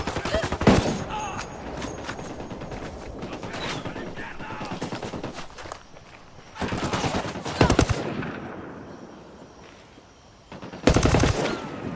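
Automatic gunfire in Ghost Recon: Wildlands comes in several loud, close bursts, the sharpest near the start, in the middle and at the end, with quieter battlefield noise between them.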